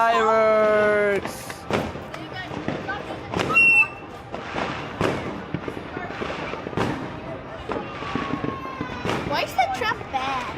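Loud New Year's Eve fireworks bang and crackle in quick bursts close by, with excited voices shouting and cheering throughout.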